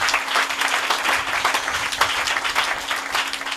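A church congregation applauding during a French-language sermon, steady dense clapping throughout at a fairly strong, even level.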